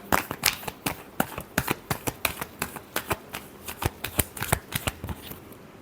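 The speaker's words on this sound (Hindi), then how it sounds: "Last shuffle." Tarot cards shuffled by hand, a quick close run of crisp riffling flutters and snaps repeating steadily for several seconds, with no talk.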